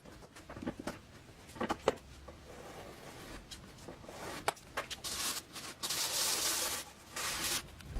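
Wooden end panels of a bar cabinet being sanded by hand, a quiet, uneven scratchy rubbing with scattered light taps and knocks, growing into a steadier hiss of sanding toward the end.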